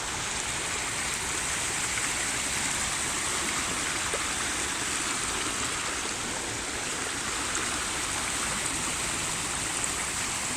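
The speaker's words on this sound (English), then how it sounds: "that's the water going past my legs," Floodwater at Shardlow Marina rushes past a person's legs and pours into the marina, making a constant loud, hissing, gurgling flow that stays steady throughout without talking.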